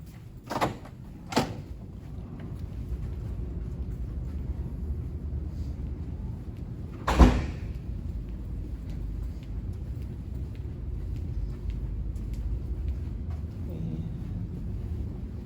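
A door inside a hallway of the Halifax Convention Centre opens and shuts, with a couple of light clicks early on and one firm thud near the middle over steady building hum.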